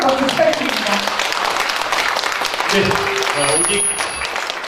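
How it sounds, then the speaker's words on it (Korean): An audience applauds Na Kyung-won at a political event, a dense, sustained wash of clapping that fills the whole moment while a voice briefly speaks over it. "행복한 나라를 부른 나경원 의원님께 다시 한번 뜨거운 박수 부탁드립니다"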